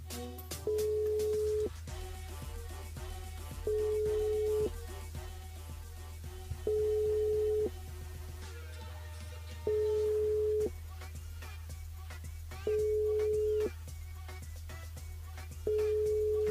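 A telephone line sounds with evenly spaced tones while a radio contest winner is called back, repeating steadily over a music bed for the whole stretch, with no talking.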